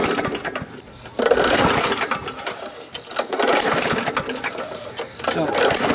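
A lawnmower being pull-started in a yard, its cord yanked repeatedly so the engine rattles and sputters in uneven bursts without catching, loud and close, with people talking over it.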